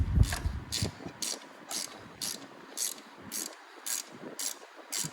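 A hand ratchet clicks through repeated strokes tightening grille bolts on a 2014 Ram 3500 truck, about ten evenly spaced bursts of close, crisp clicking with no voices.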